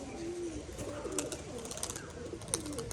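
A black male Rajshahi pigeon with clipped wings performing its display, soft repeated cooing notes over faint background noise.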